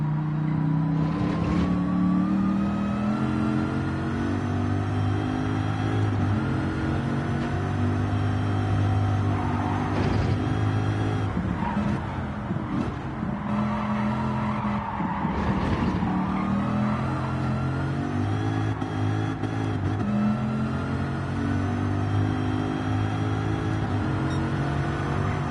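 A stock car with its stock engine and exhaust keeps up a steady, moderate engine drone while driving, with gentle rises and falls in pitch as it shifts and accelerates. Road noise continues underneath throughout.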